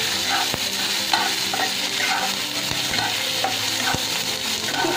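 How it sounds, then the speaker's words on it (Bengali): Chopped tomato and curry leaves sizzle and fry steadily in a pan for sambar, with repeated stirring scrapes and clinks of a spoon against the pan throughout, no voices. "এবার আমি এই টমেটো কুচিটা দিলাম, কারি পাতাটা দিয়ে দেবো"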